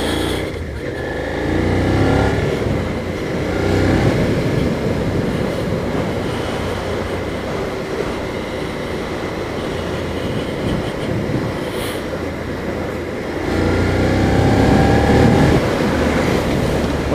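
A Suzuki SV650 V-twin motorcycle is ridden on a wet road, its engine droning loud and close with wind rush, swelling as it accelerates near the start and again toward the end.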